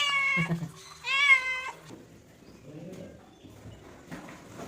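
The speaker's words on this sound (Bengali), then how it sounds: "এই দেখো বিড়াল এই দেখো দেখে দেখেছো বালি পোষা বিড়াল" A pet cat meows twice in close succession, loud and near, followed by quieter background rustling and faint noises.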